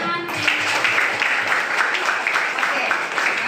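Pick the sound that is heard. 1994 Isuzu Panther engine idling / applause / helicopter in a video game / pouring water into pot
applause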